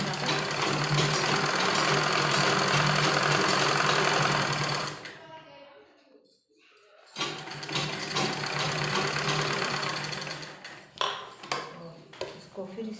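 A sewing machine stitches a strip onto trousers with a steady, close mechanical whir that pauses briefly midway and then resumes in shorter, uneven bursts.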